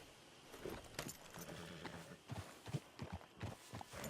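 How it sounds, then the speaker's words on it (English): Horse hooves clip-clopping in Red Dead Redemption 2, a quiet, irregular run of hoof strikes with small jangling tack sounds, faint and unhurried. "Damn horse acting up on me"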